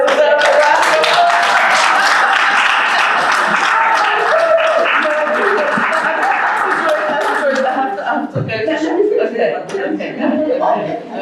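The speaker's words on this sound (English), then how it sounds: "Wow, I think Auntie Joyce deserves a round of applause." An audience gives loud, sustained applause mixed with chuckles. It tapers off as speech takes over near the end.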